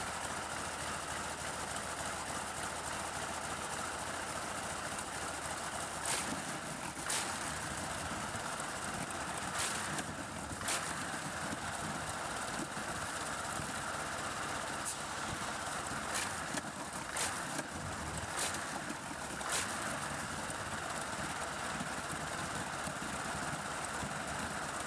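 A vintage crude oil diesel engine runs with a steady mechanical drone, punctuated every few seconds by sharp knocking beats from the machine.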